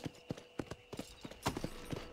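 Horse hooves clip-clopping at a steady walking rhythm in the video game Red Dead Redemption, the black and gold horse's footfalls distinct and fairly close over a faint background.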